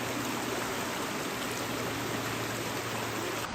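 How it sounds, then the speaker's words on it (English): Steady, loud rushing roar of a waterfall heard up close on a forest hike, a dense unbroken wash of falling water with a low hum underneath and no voices. "Is that the waterfall?"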